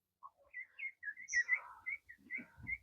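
Farm chickens chirping: a run of short, high, whistly peeps and tweets, quiet and close, scattered irregularly with brief gaps and no talking.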